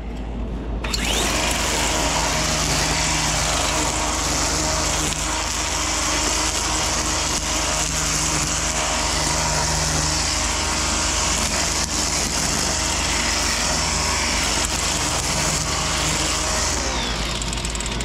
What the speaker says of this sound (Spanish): El ruido del motor y del hilo es lo únicamente que hace ruido.